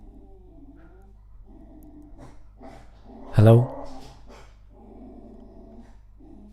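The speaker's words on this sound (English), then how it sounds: "My dog is getting mad." A pet dog lets out one short, loud growling bark in the middle of a quiet indoor room during a live coding session, with a person speaking softly before and after.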